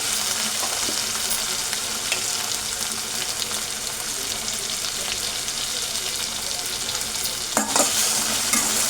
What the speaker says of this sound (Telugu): ఆలు వేసాం కదా, ఒకసారి తిప్పుకున్నాం